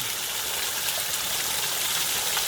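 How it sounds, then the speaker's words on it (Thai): Water pouring and splashing at Than Nam Sai waterfall in Phu Pha Yon National Park, Sakon Nakhon, Thailand, a steady close broadband rush that continues without pause and with no voices. "น้ำตกลงไป"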